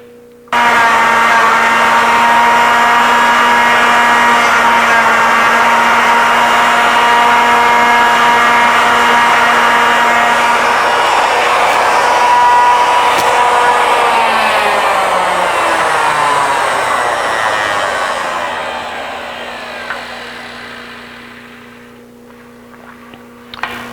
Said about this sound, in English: I bring that router in against that stop, and I'll go back out, rotate it or index it, if you will, on the rotary table